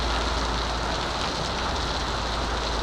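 Monsoon rain falls steadily in the Konkan region, a dense, even hiss of drops on surfaces that holds at one level throughout, with no voices.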